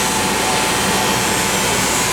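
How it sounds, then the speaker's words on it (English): An automated seam welder, a home-built machine running a weld along the lateral seam of an aluminum tank, gives a loud, steady, unbroken broadband roar and hiss throughout, with no talking. "This is a machine that Terry and I built many years ago, which will weld the lateral seam down the side of the tank."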